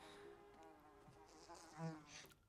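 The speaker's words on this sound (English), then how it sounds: "It's irritating and buzzes in your brain like the imagination." A bee buzzes faintly in a film soundtrack, a thin, irregular drone that rises and falls with a slightly louder swell near the end.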